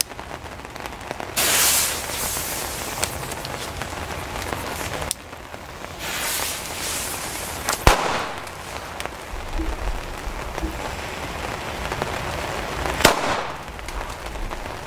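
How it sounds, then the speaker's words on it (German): German-made Weco cannon-shot firecrackers go off during a New Year's Eve session, several sharp blasts spaced seconds apart over a bed of crackling and hiss, at moderate distance. "Kanonenschläge von Weco, made in Germany."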